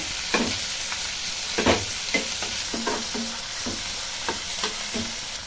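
Onion and chopped capsicum frying in a pan for noodles, stirred with a spatula: a steady sizzle underneath repeated scraping strokes at an irregular rhythm, close and clear, no talking.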